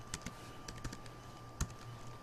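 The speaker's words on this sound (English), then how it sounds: "I'm having some trouble typing today." Fast, uneven keystrokes on a computer keyboard click quietly in short bursts, with one sharper key strike near the end and a steady low hum beneath.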